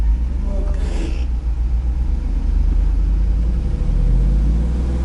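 A Jeep Wrangler 392 engine drones off-road in mud, logs and rocks as the wheels spin, a loud continuous low rumble with a swell toward the end.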